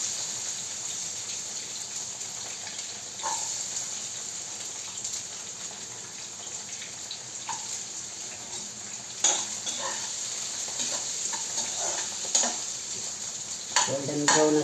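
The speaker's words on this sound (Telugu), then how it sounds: "మనం ఈ ఉల్లి తరుగు ఇవన్నీ కూడా కొంచెం ఆయిల్ వేసేసుకుని ఇవన్నీ వేయించేసుకుందాం." Chopped onions frying in oil in a pan for chilli paneer, a steady close hiss and crackle running throughout, broken by occasional scraping stirs and clinks of a utensil against the pan.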